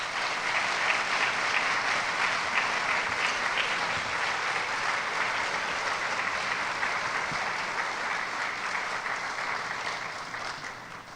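Audience at the Middlesex County College Fall 2018 convocation applauds new college employees, a dense, sustained wash of many hands clapping that holds steady for about ten seconds before tapering off, with no talking over it.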